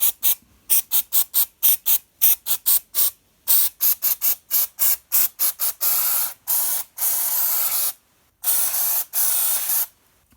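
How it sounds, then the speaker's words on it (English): Sticky residue remover sprayed from a can in many short rapid hissing bursts, then a few longer sustained sprays near the end, loud and close with no talking. "So what we're going to do is just spray it all around."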